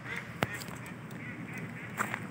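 A couple of brief quacking calls from white ducks at a town pond, one near the start and another near the end, over a steady outdoor background.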